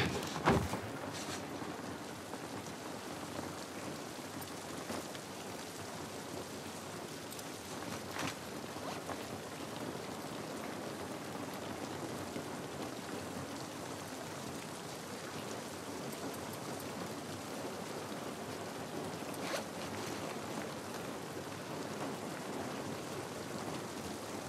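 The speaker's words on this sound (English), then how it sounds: "This rain ain't gonna do us any good." Rainfall in the video game The Last of Us, a constant soft hiss of drops with occasional louder splashes, steady and moderately faint with no voices.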